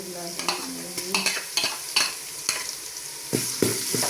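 Ginger garlic paste and browned onions sizzle in a hot pan while a spoon stirs in regular scraping strokes, the frying crackle close and steady.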